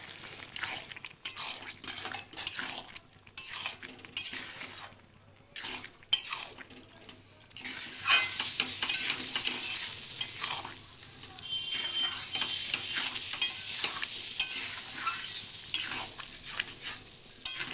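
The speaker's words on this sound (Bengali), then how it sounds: "এই সময় যেন গ্যাস বাড়িয়ে দিলেও দেখতে হবে, নাড়তে হবে ক্রমাগত, যেন তলায় না লেগে যায়।" Carrot halwa with condensed milk is stirred in a pan on the stove, first with intermittent scraping and clinks of the spoon, then a steadier bubbling sizzle, close and moderately loud, with no talking.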